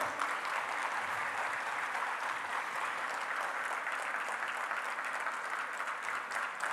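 A large audience at the IMC 2023 inauguration gives Prime Minister Narendra Modi a sustained, even wash of applause, steady and dense from start to finish with no pauses.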